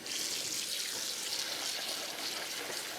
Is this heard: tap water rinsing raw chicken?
yes